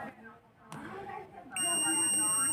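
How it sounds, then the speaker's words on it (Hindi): A multimeter gives a continuity beep as it tests a good fuse during satellite dish receiver repair. Someone talks quietly at first, then a steady, high-pitched electronic tone starts and holds without a break. "यहाँ पे जो फ्यूज से हमें इस तरीके की बीप मिलनी चाहिए"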